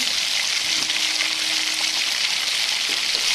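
Onion, tomato, spices and soya chunks stirred together in a hot pan, a steady close sizzle of frying with faint scraping, continuous and fairly loud with no talk.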